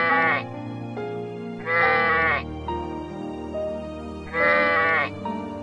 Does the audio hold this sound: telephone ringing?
no